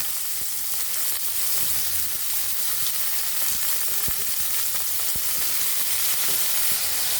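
Mutton pieces frying with chopped garlic in a pan for haleem, a steady, loud, close sizzle with occasional crackles and stirring clicks, continuous throughout with no talk.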